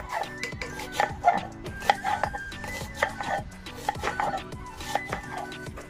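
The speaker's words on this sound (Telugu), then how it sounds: "ఉల్లిపాయలు పొడువుగా సన్నగా కట్ చేయాలండి." Onions are sliced long and thin on a board for crispy onion pakoda, with a quick, uneven run of sharp knife taps at close range.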